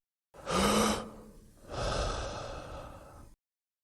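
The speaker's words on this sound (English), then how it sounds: "There was no answer except for Sarge's labored breathing." Heavy labored breathing, a sharp gasping inhale followed by a long ragged exhale, close and alone against silence.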